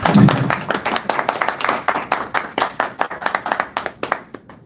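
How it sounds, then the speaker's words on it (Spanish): A small audience after a philosophy lecture claps in a loose, uneven round, individual hand claps standing out as distinct sharp strikes that thin out and fade toward the end. "primero un aplauso"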